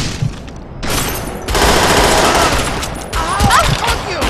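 Rapid video-game gunfire from Perfect Dark Zero rattles in dense bursts across the whole stretch, loud and close, with brief lulls and shouted voices mixed in over the shooting.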